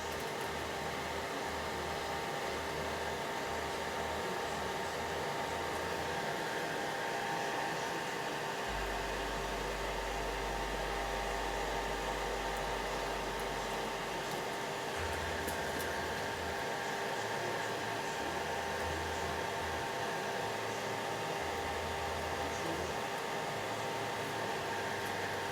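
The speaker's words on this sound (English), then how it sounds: "I got my fan in the background on to suck out any fumes" An electric fan runs steadily in a room to pull out soldering fumes, a constant broad whooshing hum with a low drone underneath, moderately loud and unbroken, with no talking.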